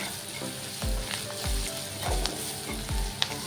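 Salted onions frying in a pan for a home-style sour fish curry, with a steady sizzle broken by four evenly spaced scraping stirs of a spatula, close and moderately quiet.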